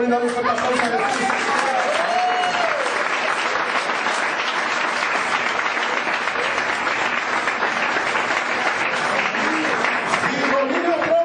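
A congregation gives loud applause for Jesus, dense sustained clapping filling the room for several seconds, with voices calling out over it at the start and again near the end.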